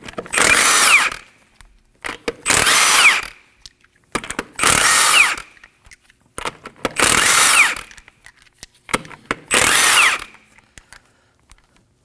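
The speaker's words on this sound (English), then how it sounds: "Using a 21mm socket, go ahead and remove the lug nuts." Five loud bursts from a power impact tool zipping lug nuts off the wheel of a 2011-2016 Kia Optima with a 21mm socket, each lasting about a second, separated by short pauses with light clanks, and no talking.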